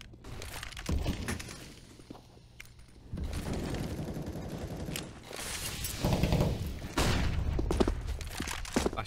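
Gunfire in a professional Counter-Strike match, scattered bursts of rapid shots and sharp cracks with clattering impacts, varied in loudness across the round, with no talk heard.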